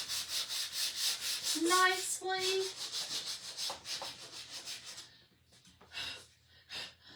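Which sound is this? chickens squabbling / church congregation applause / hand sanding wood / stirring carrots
hand sanding wood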